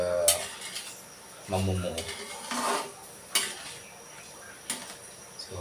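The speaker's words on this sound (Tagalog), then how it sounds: "So halo-halo lang guys, tuloy nyo lang paghalo." A spoon scrapes and knocks against a pot as a sticky rice cake mixture of biko is stirred, giving intermittent close strokes and clinks with a low background hum, and a voice speaks briefly.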